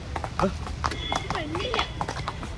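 Horse hooves clip-clop in a quick, uneven rhythm nearby on a rented horse ride in Kodaikanal, mixed with background voices and a brief high whinny-like tone.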